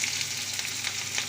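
Onions and curry leaves fry in hot oil, giving a close, steady crackling sizzle with fine popping throughout.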